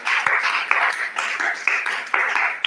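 A church congregation claps for the Lord in a rhythmic, fairly regular beat of many hands, close and steady, with brief accented claps repeating through the stretch.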